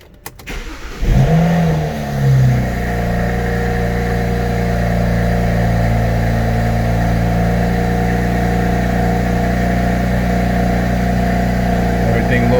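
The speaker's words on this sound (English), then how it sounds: "Let's start the motor, see what we get." A car engine cranks and catches, revs up briefly, then settles into a steady, loud idle that hums on unchanged.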